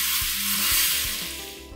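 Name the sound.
hot mustard-seed and asafoetida tempering poured onto pickle, sizzling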